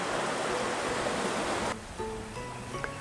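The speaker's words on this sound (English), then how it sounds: "We thought that this special spot, with the sounds of the river rushing by, would be a wonderful spot" A river rushes past a villa in Bali as a steady, broadband wash of flowing water. It is loud and continuous at first, then drops to a softer flow with faint tonal sounds over it.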